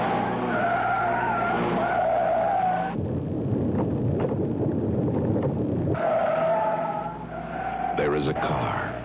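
A Mercedes-Benz car skids with loud, sustained tire squeals in a television commercial, two long screeching runs broken by a rougher stretch of engine and road noise.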